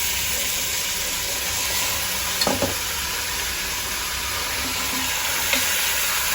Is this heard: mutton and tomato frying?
yes